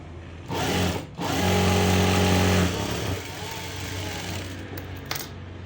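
A sewing machine runs in two close, loud bursts, stitching with a shorter, tighter stitch, its motor whirring steadily before fading into quieter handling noise.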